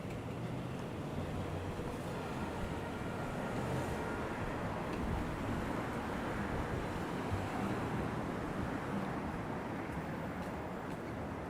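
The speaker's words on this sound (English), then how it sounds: "I'm not sure if you could even hear the wind from my microphone, but it's gusting." Steady, roaring gusting wind buffeting the microphone on a Manhattan street at night in January, a constant dense rush with no letup and no voices.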